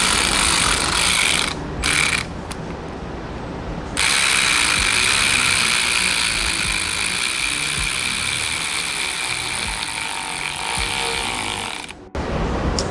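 Ratchet with a 12mm socket ticking rapidly and continuously during a BMW B58 front-mount intake install, close and loud, with a couple of brief pauses.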